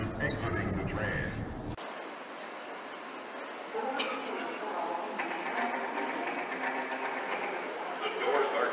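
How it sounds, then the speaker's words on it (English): An automated train arriving at a Denver Airport platform with platform doors: a steady mechanical rumble and whoosh that rises midway, with an abrupt change in the noise early on. "A train is arriving."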